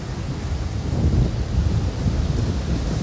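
Ocean surf rolls at Red Rocks Reserve on the New Zealand coast as a steady, loud, broadband roar, with heavy wind buffeting the microphone and no voices.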